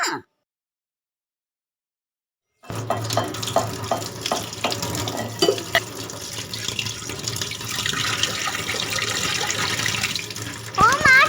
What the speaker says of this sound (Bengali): কত জল পড়ে যাচ্ছে যাই আমি বন্ধ করে দিই